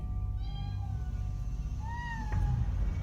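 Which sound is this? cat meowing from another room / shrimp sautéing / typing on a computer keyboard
cat meowing from another room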